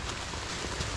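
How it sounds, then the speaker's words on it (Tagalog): Steady rain falls in a dense, even hiss on surfaces along a mountain hiking trail at Mt. Tagapo, continuous and fairly close with no voices. "Umuulan."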